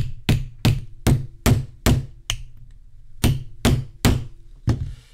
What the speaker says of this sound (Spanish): tenemos la parte afilada, un martillo y a ver si no me doy en un dedo y sale bien la cosa